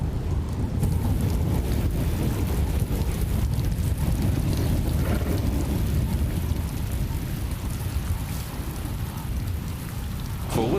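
Steady heavy rain falling in Tanzanian acacia woodland of umbrella thorn trees, a dense continuous hiss of drops with a low rumble beneath, loud and unbroken throughout.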